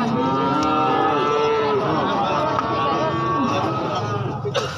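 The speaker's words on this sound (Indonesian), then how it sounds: "Ini ada sapi limusin nih," Limousin cattle at a livestock market, a loud drawn-out moo held for several seconds close to the microphone, with faint crowd murmur behind.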